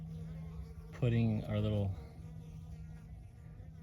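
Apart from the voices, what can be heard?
wild bees buzzing around a bee-lining dish in the desert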